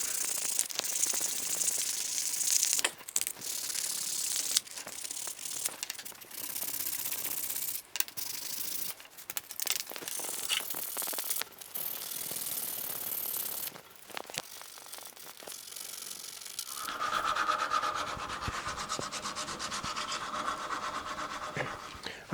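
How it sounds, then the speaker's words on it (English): Wooden battery cell tester being hand-sanded with 120 grit sandpaper before painting, a steady close scratchy rubbing that continues throughout with brief pauses, alone without talk. "We'll start with 120 grit sandpaper."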